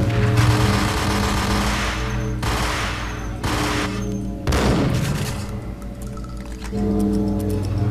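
Sustained video-game gunfire in Max Payne, with loud overlapping shots and bursts over a continuous music or ambient bed, the firing swelling and thinning across the stretch without any speech.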